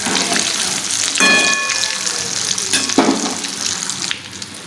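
Lotia (Bombay duck) fish chops frying in hot oil, a continuous loud sizzle with bursts of crackling as pieces are turned, plus brief clinks from a utensil against the pan.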